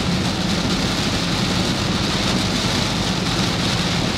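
Heavy rain pounds a Daihatsu Ayla on the road from Ambarawa to Jakarta, a dense, even hiss of drops on the body and glass over a low engine and road rumble that carries on without pause.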